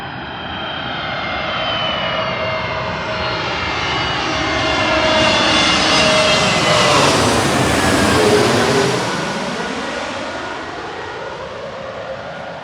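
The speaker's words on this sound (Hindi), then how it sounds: "यहाँ से देखो फ्लाइट कितने पास से आएगा" An airplane passes low over a runway, its engine roar swelling loud and close before slowly fading, with no voices over it.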